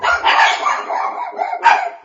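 Pugs barking in an audio drama, a loud close run of yapping, yelping barks in quick overlapping bursts with a final sharp flurry.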